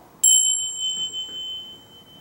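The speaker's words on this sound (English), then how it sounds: "Hear that ringing going on into time?" A single bell is struck once with a sharp, bright onset, its clear metallic tone ringing on and slowly fading for about two seconds in an otherwise quiet room.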